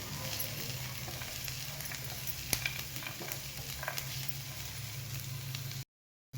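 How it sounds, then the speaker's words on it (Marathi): Onion and cashews fry in a pan, giving a steady, moderately quiet sizzle with occasional stirring scrapes that carries on until a sudden cutoff near the end. "इथं कांदा जर भाजायला टाकलेला तर आपण काजू पण टाकून घेऊया"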